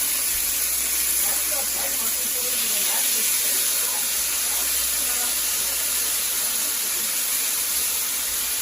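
A steak fries in oil in a hot pan, giving a loud, continuous close-up sizzle and hiss that holds steady throughout.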